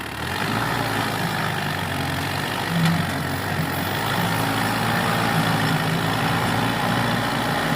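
An Arjun 605 tractor engine drones and labours steadily at close range while pulling a trolley uphill, a continuous loud rumble under strain.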